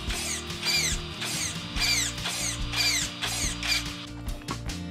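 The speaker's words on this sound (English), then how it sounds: "I'll just put a battery in so I can quickly just test how quick the current servo is." Steering servo on an Arrma RC car being tested, whining back and forth in quick repeated sweeps, about eight rapid buzzing movements close by with a mechanical gear-driven edge and no talking.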